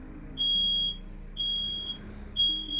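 A smoke alarm in a studio sounds three loud, piercing beeps about a second apart, each held for roughly half a second, with no voices.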